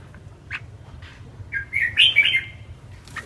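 A red-whiskered bulbul gives a few short, sharp chirps, then a brief bright warbling phrase, fairly faint and close, over a low background hum with no talking.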